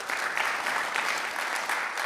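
Audience at a hearing on drug enforcement breaking into applause, a dense, even clapping that holds fairly steady for about two seconds, somewhat distant and moderately loud.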